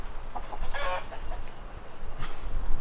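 Chickens cluck in short, scattered bursts against a noisy outdoor background, with no talking.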